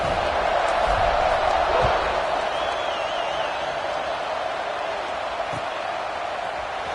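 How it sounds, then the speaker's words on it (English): A stadium crowd buzzing after a score in an American football video game, a broad steady roar with scattered cheers and thumps, slightly louder at first and then settling into a constant murmur. "this crowd is buzzing after that last score"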